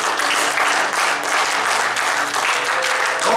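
Church congregation clapping hands together in praise after a prayer, a loud sustained wash of applause lasting the whole moment with no voices over it.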